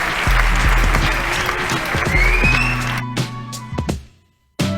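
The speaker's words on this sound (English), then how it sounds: "Once again, round of applause, man. Round of applause in the kitchen." Clapping and cheering in a radio studio kitchen during a music show, loud and close over a thumping beat, thinning out before a brief silence and then a sudden return of sound at the end.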